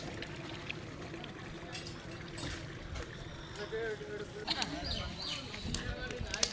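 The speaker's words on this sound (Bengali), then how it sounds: "এখন গরম পানি দেওয়া হচ্ছে আর কি, কানায় কানায় পূর্ণ করে গরম পানি দেওয়া হবে প্রত্যেকটা ডেগে" Hot water is poured into large cooking pots for a big traditional meat-and-rice feast, giving a soft, steady splashing with clanks and thumps while people talk nearby.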